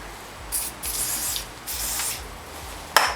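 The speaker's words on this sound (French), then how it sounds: "Pareil, je vais les graisser avec le spray silicone." Several short hissing bursts of silicone spray lubricant applied to a disc brake caliper seal on a Suzuki Jimny JB43 during a brake job, close and fairly loud, followed by a sharper click or tap near the end.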